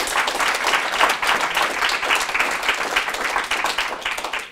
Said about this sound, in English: Catherine Cooke, give her a big round of applause, please.